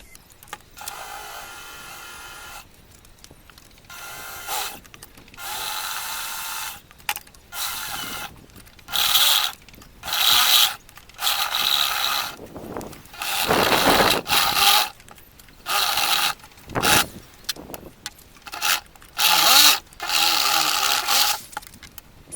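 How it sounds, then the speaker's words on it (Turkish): Bursts of mechanical whirring from a drill boring metal parts for a homemade car suspension arm start and stop repeatedly, some long and some short, with quiet pauses between them and no talking. "Şimdi delme işlemine geçelim."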